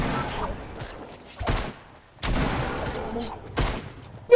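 A few pistol shots from a blue pistol in Fortnite ring out in separate bursts, each sharp and fairly close, with quieter game noise and gaps between them.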